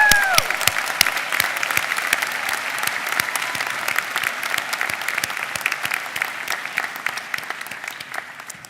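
Steady applause from a large audience at a law school commencement ceremony, broad and sustained with crisp individual claps, slowly thinning toward the end with no talking over it.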